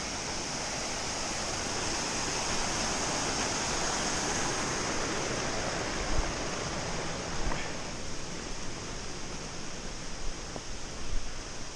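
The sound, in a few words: mountain river flowing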